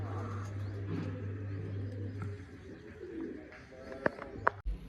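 Pigeons released for a village pigeon-flying contest coo softly nearby against a low steady hum, followed by a few sharp clicks or taps near the end.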